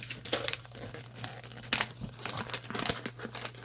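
Tape on a gift parcel is cut and wrapping paper is torn and crinkled open, with close, uneven rustling and sharp tearing bursts that continue throughout.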